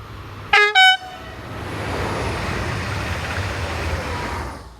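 A westbound passenger multiple unit travelling from Bielefeld toward Hengelo gives two short, loud horn toots, then a steady rolling rumble that fades toward the end.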